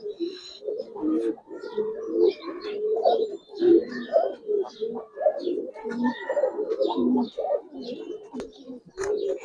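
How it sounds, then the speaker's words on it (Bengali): Released pigeons cooing close by in repeated soft, throaty phrases, several birds overlapping with brief pauses, and a few faint higher chirps mixed in. "স্পেশাল একটা চুইনা কবুতর দেখেন"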